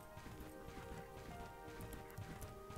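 Game horse hooves clip-clopping in Bella Sara, a steady run of soft thuds over a dense bed of music, with no voices.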